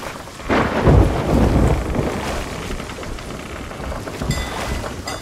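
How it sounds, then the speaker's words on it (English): Thunder rumbles over steady rain during a lightning storm at sea in the video game Sea of Thieves, a loud crack swelling near the start and then rolling on under the downpour. "Lightning's getting awfully close to the ship."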